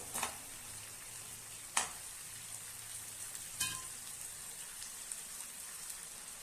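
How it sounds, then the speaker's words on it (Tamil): Brinjal pieces sauté in oil with a little salt, a faint, quiet crackling sizzle with a few sharp clatters of stirring spread across the clip. "இந்த காய் வதங்கிறதுக்கு அளவா கொஞ்சமா உப்பு சேர்த்துக்கலாம் நல்லா இந்த எண்ணெயிலேயே கொஞ்சம் நல்லா வதங்கட்டும்"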